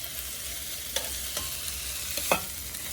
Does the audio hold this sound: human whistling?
no